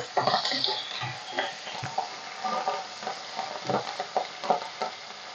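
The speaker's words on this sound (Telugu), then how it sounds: "అలాగే ఎండుమిర్చి, కరివేపాకు కూడా వేసేసుకోవాలి. ఇవి కొంచెం ఆయిల్లో వేగాలండి." Cumin seeds, dried red chillies and curry leaves frying in hot oil as a tempering for amaranth leaf fry, with a steady crackling sizzle and a few soft utensil clinks nearby.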